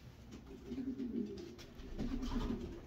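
A racing pigeon coos softly nearby, giving two low, throaty rolling phrases over a faint background murmur.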